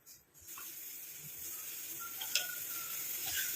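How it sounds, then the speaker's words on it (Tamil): Liquid for a homemade hair dye simmers in an iron pan with a steady, soft hiss and light bubbling that builds slightly as it goes on. "இப்போ பாருங்கள் நல்லா கொதிக்க ஆரம்பிக்குது."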